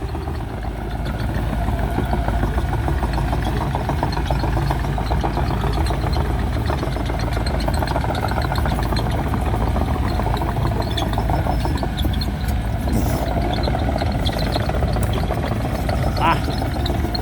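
Diesel engines of CAT 313D2 excavators running steadily throughout, a continuous low rumbling drone with mechanical chatter, fairly close and loud, with no pauses.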